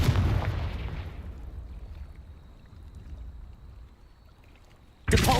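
A Confringo spell blast in Hogwarts Legacy booms loudly and fades into a low rumble over a couple of seconds, then a second sudden blast erupts at the end.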